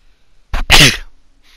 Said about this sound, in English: I had a sneeze there.